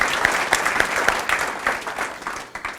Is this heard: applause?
yes